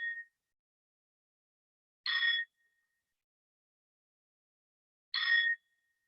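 Bell of the Strasbourg Cathedral astronomical clock striking the hours, two separate metallic strikes about three seconds apart, each ringing briefly and fading into silence, heard from a distance.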